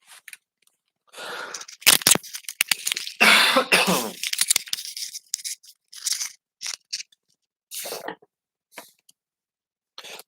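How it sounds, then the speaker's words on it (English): A run of harsh, close throat clearings and short coughs in separate bursts, with brief silences between them. "let me clear my throat"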